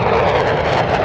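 Airplanes at an airshow fly in with a loud, continuous engine roar, dense and close, with no one speaking over it.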